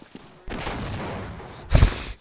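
Rifle fire in the video game Half-Life: a sustained loud burst of gunfire lasting over a second, followed by a short sharp heavier blast near the end.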